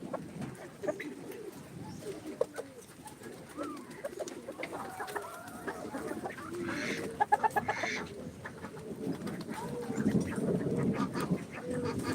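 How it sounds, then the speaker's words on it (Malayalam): A mixed flock of ducks, turkeys and chickens calls continuously at a moderate distance, with quacks, clucks and gobbling-like chatter overlapping throughout. "താറാവ് കൂട്ടങ്ങൾ ടർക്കി കോഴിയുണ്ട്"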